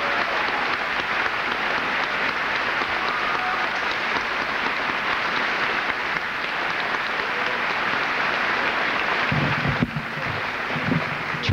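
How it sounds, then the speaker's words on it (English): A large audience at a high school graduation ceremony applauds in a long, steady roar of clapping, heard at a moderate distance in a big hall, with a brief low murmur of voices near the end. "Join me in one more round of applause for these outstanding young people."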